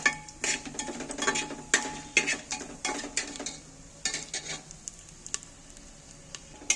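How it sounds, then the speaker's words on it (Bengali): Spices fry in a small amount of oil for a chicken dish, with repeated clattering scrapes of a utensil stirring the pan over a soft sizzle. "এইবার আমি মশলাটাকে একটু নাড়াচাড়া করে তেলটার মধ্যে ভেজে নেব"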